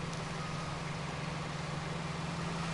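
A steady low engine hum from a 1973 F350 Super Camper Special truck in Farming Simulator 19, idling evenly throughout with no speech.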